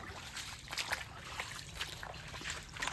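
Rainwater runs along village roads and past flooded fields, a steady trickling and sloshing wash that stays moderately loud and continuous, with no voices.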